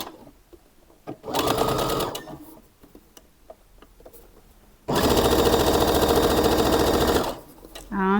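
A sewing machine stitches a kimono top in two bursts, a short run and then a longer steady rattling whir, with quiet ticks and handling noises between them.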